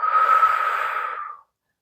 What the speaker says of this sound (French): et souffler par la bouche